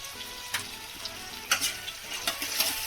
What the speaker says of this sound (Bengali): এটা 2 মিনিট নাড়াচাড়া করবো।